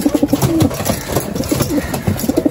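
Pigeons coo over and over in soft, throaty bursts close by, one call overlapping the next with no talking.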